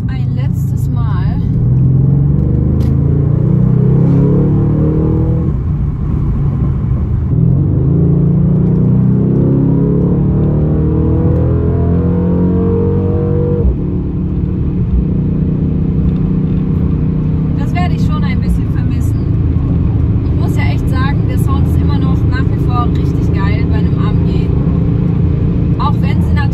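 A Mercedes-AMG C63 S with a particulate filter revs in repeated loud, rising bursts close by. Each burst falls back to a deep, rumbling idle, and a voice speaks over the later part.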